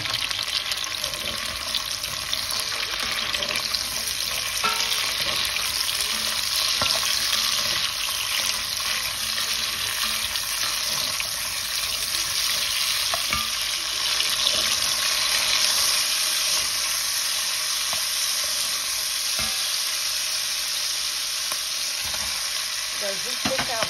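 Bell pepper hitting a pan of frying beef, a loud, steady, close sizzle with stirring scrapes that hold throughout, no voices heard.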